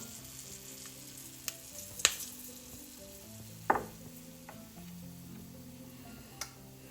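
Bay leaf and cinnamon dropped into almost-hot oil in a pan, giving a low steady sizzle with a few sharp pops and crackles scattered through, close and fairly quiet.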